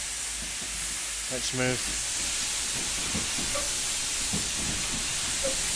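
Steady broadband hiss of steam escaping from the open cylinder cocks of a Stroudley A1 Terrier tank locomotive in a train simulator game, filling the cab continuously while someone speaks briefly over it.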